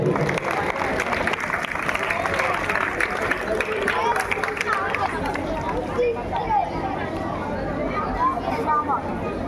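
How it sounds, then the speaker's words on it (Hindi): A large audience at an outdoor Ramleela stage performance of the Ramayan claps steadily and loudly for a child actor, a dense, continuous wash of applause with crowd murmur mixed in throughout. "तालियां बच्चे के लिए"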